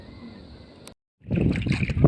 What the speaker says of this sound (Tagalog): Nilakasan na tayo ng hangin.